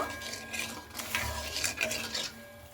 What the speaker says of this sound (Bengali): এখানে আমার চিনিটা যতক্ষণ না গলতে থাকবে ততক্ষণ আমি একটু এইভাবে নাড়াচাড়া করে নিচ্ছি।